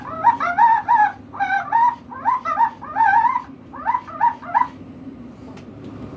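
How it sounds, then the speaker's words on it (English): A phone ringtone aboard the submarine USS Razorback, a growler that sounds as a string of yelping, dog-like warbled bursts in quick groups, loud and close before stopping. "I'm going to ring this phone for y'all. Makes an odd little noise."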